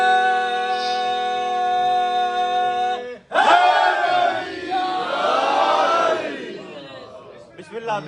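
A majlis crowd chanting slogans together in a loud, swelling burst of voices that rises abruptly after a sustained sung tone, holding strong for a few seconds before fading.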